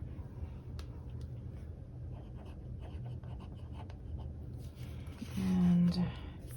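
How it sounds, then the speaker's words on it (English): A pen writes in a Sterling Ink Common Planner, making quiet, close scratching strokes for several seconds, followed by a brief louder tonal sound near the end. "writing in my work schedule"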